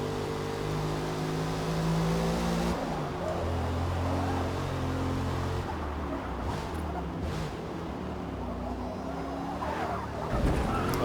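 Skidding car in Forza Motorsport, a steady droning engine with shifting tonal whine as the tires slide and scrub, loud and continuous, with a few brief sharper noise bursts partway through.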